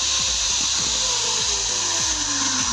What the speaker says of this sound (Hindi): अभी ड्रिल मशीन मैं इसको ऑन करने लगा हूँ, आप देखिएगा।